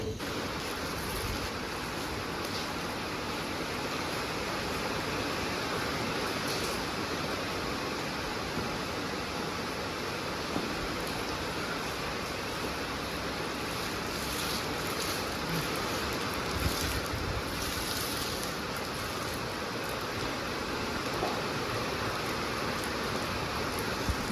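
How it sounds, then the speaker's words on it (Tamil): Heavy rain falls under a darkened sky, a steady hiss of downpour at moderate level throughout with no clear thunder standing out. "வானம் நல்லா இருட்டிட்டு நல்லா மழை வர ஆரம்பிச்சிருச்சு நல் நல்லா இடி இடிக்குது நல்லா தூரல் போட ஆரம்பிச்சிருச்சு"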